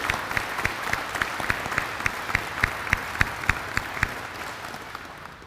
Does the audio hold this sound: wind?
no